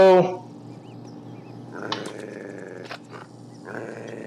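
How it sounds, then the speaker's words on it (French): A dog in the video game Postal 2 lets out a loud, close growl at the start, then fainter snarls and grunts follow in short bursts over ambient game sound. "Ça, c'est un chien."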